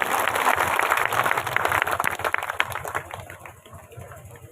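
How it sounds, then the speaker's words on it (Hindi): A political rally crowd claps and cheers for several seconds over a steady hum, and the noise tapers off toward the end. "एक बार जोरदार तालियां"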